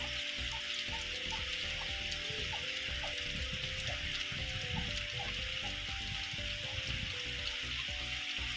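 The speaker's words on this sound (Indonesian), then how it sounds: "Hujan pemirsa." Rain falls steadily in a village street during Lebaran, a faint, even wash of drops and patter that runs continuously with no voices.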